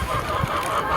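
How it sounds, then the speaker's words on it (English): Chickens let out of their coop make a short burst of clucking and honking calls, close and fairly loud, lasting about a second. "And release the chickens."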